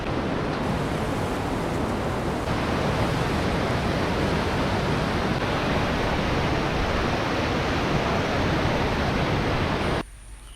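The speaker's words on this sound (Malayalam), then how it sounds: "നല്ല വെള്ളച്ചാട്ടവും നല്ല പാറക്കല്ലുകളുമായിട്ടുള്ള ഇതാണ്." A waterfall tumbles over rocks at Narangathodu in Kozhikode, making a loud, steady rushing wash for about ten seconds before cutting off abruptly.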